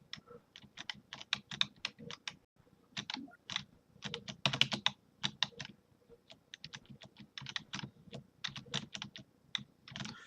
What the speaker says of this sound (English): You can always tell how hard something is by how hard I smash the keys